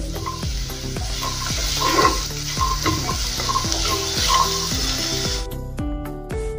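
Mexican rice stirred in a pan after half a spoon of chili flakes goes in, a steady sizzle under repeated scraping strokes of a spoon against the metal, close and continuous.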